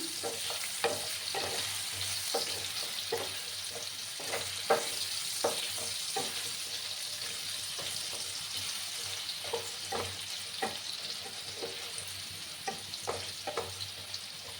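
A vegetarian potato and pumpkin curry being stirred as it fries in a pan. A steady sizzle runs throughout, broken by repeated scrapes and taps of a spoon against the pan at an uneven rhythm, close up and with no voices.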